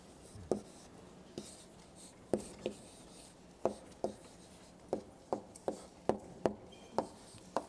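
Chalk or marker taps and scratches on a board during an organic chemistry lecture: a quiet, irregular run of short close knocks, clustering faster toward the end, with no speech over them.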